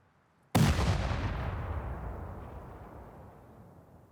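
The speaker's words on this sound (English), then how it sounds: "Let's see if that explosion wakes him up." A single sudden, loud explosion in a video game, a sharp close blast followed by a long rumbling decay that fades over several seconds, with no talking.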